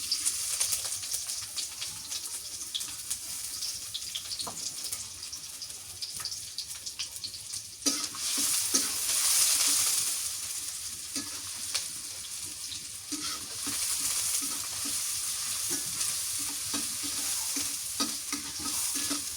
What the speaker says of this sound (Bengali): সরিষার তেল দিয়ে দিই পেঁয়াজ কুচি দিয়ে দিই